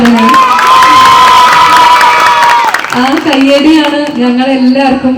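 A crowd of children cheers and shouts loudly at an event with film actors. Their voices rise in a long sustained whoop, then break into a second wave of excited yelling, with only light clapping in the mix.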